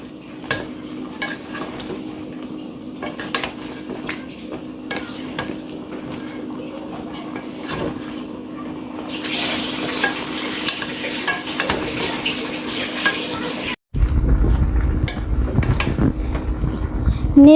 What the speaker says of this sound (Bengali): এখন আমি দিয়ে দিচ্ছি লাউ। লাউ দেওয়ার পর নেড়ে দিচ্ছি।